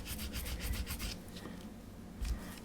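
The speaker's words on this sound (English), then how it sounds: "this is where these little photo etch sanders come in" A small photo-etch sanding stick rubs and rasps against a part of a 22-inch Eagle 1 scale model from Space 1999, giving close, steady scratchy strokes in a quick back-and-forth rhythm, with one more stroke after a short pause.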